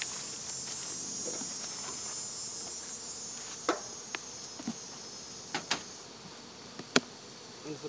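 A soft, steady buzz of many honey bees in a hive fills the background, punctuated by scattered sharp taps and knocks nearby during a hive inspection.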